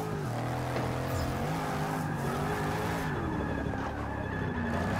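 Car drifting in Forza Motorsport 6, played on a Logitech G920 wheel, with a loud continuous tire squeal and a revving engine that shifts pitch as the car slides.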